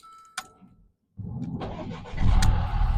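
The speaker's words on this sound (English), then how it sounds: "ignition comes on, and the vehicle starts" A Mercedes car, its ignition key just repaired after water got into it, cranks briefly and catches, the engine settling into a steady running note that swells as it revs slightly, close by with no talking.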